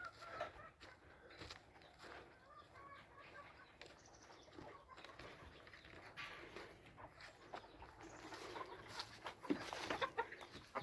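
Chickens in a farmyard, including a flary-eyed gray hen and a rooster crossed with pumpkin Halsey, cluck and stir steadily at moderate distance, with occasional wing flaps and bursts of louder squawking toward the end.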